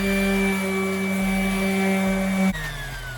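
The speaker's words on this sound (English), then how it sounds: "To do that, we're going to use this orbital sander" An orbital sander whirs loudly and steadily against a wooden chair being restored nearby, its motor tone dropping in pitch as it winds down near the end.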